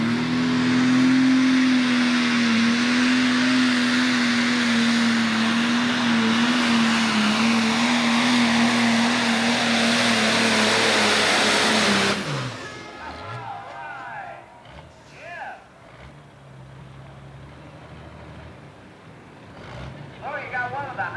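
A Pro Stock pulling tractor roars at full throttle at an Indiana tractor pull in Crown Point, 1995, loud and sustained with a steady engine drone for about twelve seconds, then cuts off abruptly, leaving quieter crowd noise and faint distant sounds.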